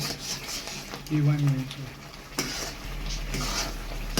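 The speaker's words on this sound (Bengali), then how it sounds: "গুড় দিয়ে ভালো করে নেড়ে নেড়ে একদম এটাকে ক্ষীর বানিয়ে নেব।" Milk kheer with jaggery being stirred in a pan, soft scraping and gentle bubbling sizzle with a few spoon knocks against the pan, faint and close.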